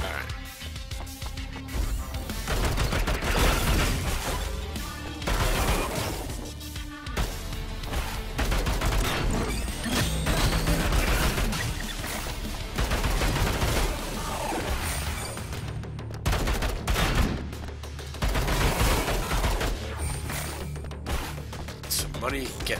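Rapid assault rifle gunfire in the video game Bunker Punks, dense and continuous bursts with crashes and impacts layered over a loud, busy game mix for most of the stretch.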